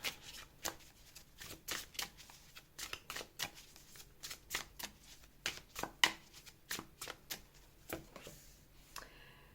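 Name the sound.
shuffling and laying out tarot cards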